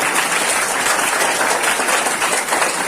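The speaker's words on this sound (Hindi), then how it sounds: "तो एक बार आप सब लोग पंडित श्रद्धाराम फिल्लौरी जी के ऑनर में, उनके सम्मान के लिए तालियां बजाएंगे।" School audience clapping in honour of Pandit Shraddharam Phillauri at an Indian poetry day event, a dense, steady wash of applause from many hands, loud and continuous throughout.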